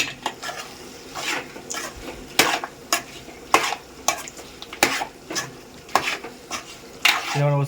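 A spatula stirs chicken curry with masala in a sizzling pan, striking the metal in regular, sharp scraping strokes about once a second over a continuous frying hiss, close and fairly loud.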